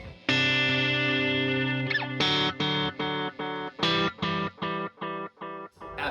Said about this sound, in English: So for delay, I'm using a tape delay set to quarter notes at